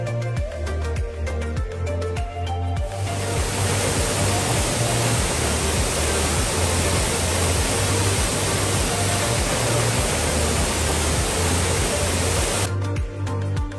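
Faipi waterfall in Bandarban roars as a dense, steady rush of falling water from about three seconds to near the end, loud and close, with low rhythmic musical tones running underneath the whole time.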